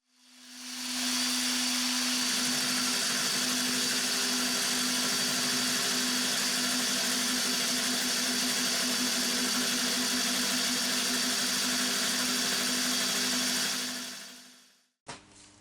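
A machine skims the face of a piece of workpiece stock, producing a loud, steady mechanical whine with a strong humming tone that runs unbroken for about fourteen seconds before spinning down and stopping.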